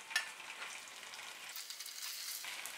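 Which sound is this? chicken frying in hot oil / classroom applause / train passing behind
chicken frying in hot oil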